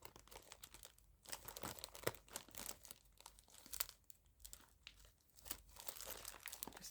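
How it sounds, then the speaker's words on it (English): Hands rummaging through items in a bag, close, soft crinkling and rustling in uneven bursts with short quiet gaps, no talking. "Just hunting in my bag here"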